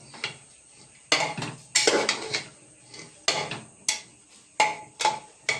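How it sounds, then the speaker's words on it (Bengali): A utensil scrapes and knocks around a cooking pot as chili powder and turmeric are stirred into food, about eight distinct close stirring bursts separated by short quiet gaps. "আর পরিমাণ মতো লঙ্কার গুঁড়ো। নাড়াচাড়া করে দেবো"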